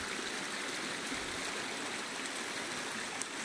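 Water of a stream flowing steadily along a rocky creek bed beneath canyon walls, a continuous rushing hiss that is close and even, with no voices.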